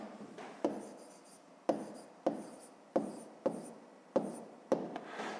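Pen or pencil writing out a math answer on paper, a series of about eight distinct scratchy strokes at irregular intervals, close and clear with no talking.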